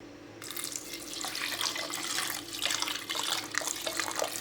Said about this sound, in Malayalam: അതിനാവശ്യമായ വെള്ളം പറഞ്ഞു കൊടുക്കാം